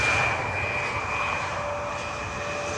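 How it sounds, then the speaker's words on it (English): An Embraer 175 airliner landing at Schiphol, a steady jet engine roar with a thin high whine, fairly loud and easing slightly over a few seconds, no voices. "We have an Embraer 175 landing here just now."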